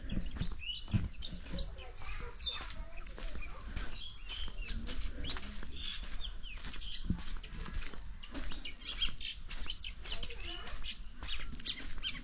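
Many birds call and chirp around a roadside village home on a cold winter morning in Bangladesh, with dense overlapping chatter and a steady rustling background throughout.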